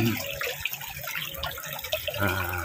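Water rushing through a dark irrigation tunnel in Indang, Cavite: a steady, close churning and splashing flow with bubbling texture, continuous for the whole stretch.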